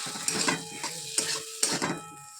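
Freshwater snails frying slowly in a covered pan for a curry, with a steady close sizzle broken by a few sharp scrapes and clinks of a utensil against the pan, no voices.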